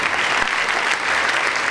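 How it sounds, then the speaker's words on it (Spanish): Audience applause at a film festival closing award ceremony, a steady dense burst of many hands clapping throughout, loud and close with no voices. "¡Aplausos, señores!"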